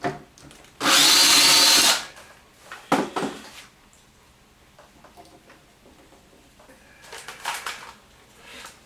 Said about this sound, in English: When you pre-drill like this,